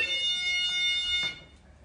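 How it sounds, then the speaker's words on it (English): An alarm tripped by a broken infrared motion-detector beam in a reportedly haunted home gives a loud, steady electronic tone that holds for just over a second and then stops abruptly, with no talking. "if anything breaks that beam, it will set off an alarm"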